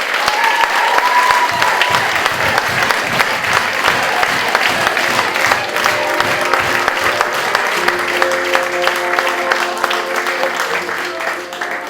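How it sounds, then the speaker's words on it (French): Sustained applause fills the hall at a sixties-themed dance gala, a thick crowd of clapping hands that carries on with a voice and some music-like tones emerging underneath toward the end. "je voudrais quand même que vous applaudissiez Michel, mon mari, pour sa présence"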